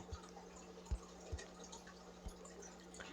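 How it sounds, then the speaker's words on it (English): Water drips in a sparse, irregular rhythm, about five gentle, close taps against near silence, with a faint electrical hum running underneath. "A drop of water"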